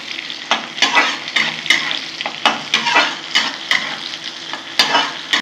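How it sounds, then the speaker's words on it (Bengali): Onion and garlic fry in a pan with a steady sizzle, broken by repeated scraping and stirring strokes that come every half second or so, close and fairly loud, with no one talking. "পেঁয়াজ রসুন ভাজা হয়ে গেছে"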